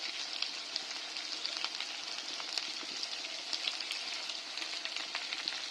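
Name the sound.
stirring dhaba style chicken masala with chilli powder in pan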